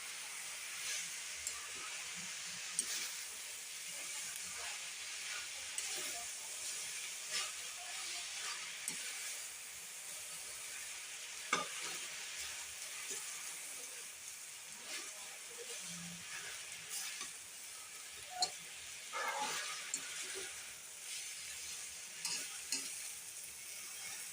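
Drumstick leaves and onion fry in a pan with a steady soft sizzle and occasional scraping stirs, heard close and moderately quiet.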